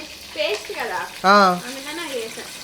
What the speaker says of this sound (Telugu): నూనె వేసేస్తున్నాం రే కాదు ఫస్ట్ అవేసేవంటి ఉల్లిపాయలు వేస్తావుగా